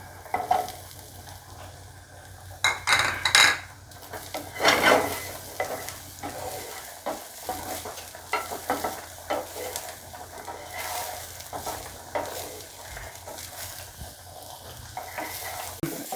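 Mushrooms and onion sizzle in a pan, with bursts of stirring and utensil scrapes early on giving way to a steady, moderately loud fry that carries on alone to the end.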